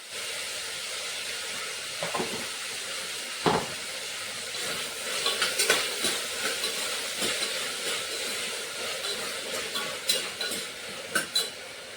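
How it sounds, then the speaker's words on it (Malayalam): Vegetables are stirred in a pan with a spoon, giving faint, scattered scrapes and soft clinks over a low, hissing sizzle that runs throughout. "ഇനി നമ്മൾ വെജിറ്റബിൾസ് ഒക്കെ ഇപ്പം ഇങ്ങനെ നല്ലപോലെ ഇളക്കിക്കൊണ്ടിരിക്കുകയാണ്."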